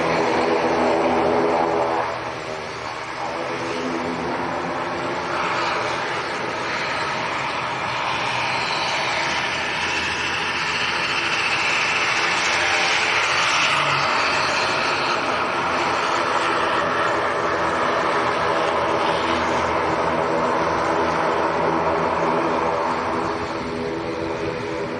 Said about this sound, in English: Wow, an ATR going long.